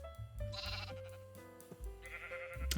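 Sheep bleating in Minecraft, several drawn-out, wavering bleats close by, one after another and overlapping with other sheep calls, over a faint steady background with no talking.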